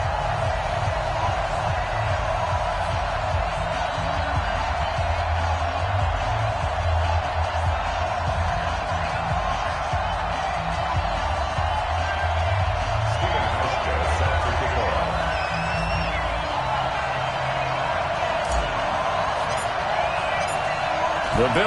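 Steady roar of a sold-out stadium crowd at New Era Field for a Bills versus Washington Redskins football match in a PS4 video game, a continuous dense murmur held at even loudness throughout, with commentary voices talking over it.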